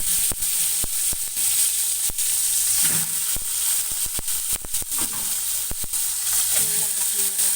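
Chicken dropped into a hot pot with whole spices such as mastic and cardamom, sizzling steadily with a bright hiss broken by frequent sharp crackles and spatters.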